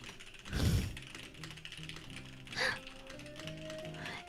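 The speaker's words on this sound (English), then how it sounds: "Can you hear my keyboard?" A computer keyboard typed on at a desk, soft irregular clicking at moderate distance with a couple of louder bumps, under a steady background hum with tonal music-like lines, no talking.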